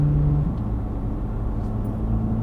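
Deep steady engine rumble of a Chevrolet C8 Corvette Z06 supercar on the move, heard from the driver's seat, a low continuous drone with a brief tonal hum at the start and no talking.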